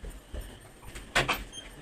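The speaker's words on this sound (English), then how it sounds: "so I'll just open the door" A door indoors is opened with two quick, close clacks of the latch and frame, moderately loud against a quiet room with no talking.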